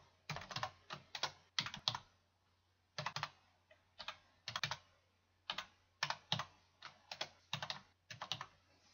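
Computer keyboard typing in short bursts of rapid key clicks separated by brief pauses, close and fairly quiet in a still room.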